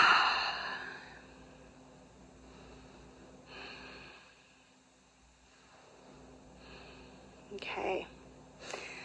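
Quiet breaths drawn by a person sitting back on their heels in a kneeling yoga position: a soft exhale at the start, then faint inhales and sighs with a short snort-like breath near the end.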